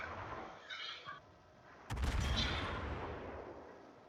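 Main guns of the Fuso battleship fire in a naval video game: one heavy, booming salvo bursts in after a quiet stretch, then rolls off into a long, rumbling tail.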